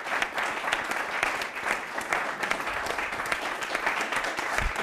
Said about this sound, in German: Jetzt geben wir mal dem Publikum einen Applaus.